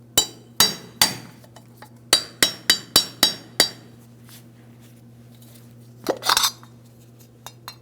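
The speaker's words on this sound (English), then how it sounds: "For this, I'm just using a small hammerable pry bar." Sharp metallic clinks and taps ring out as a small hammerable pry bar works at a metal cover on a 2007-2014 GMC Sierra 2500 HD front suspension, a quick burst of strikes followed by a pause and a brief scraping clatter.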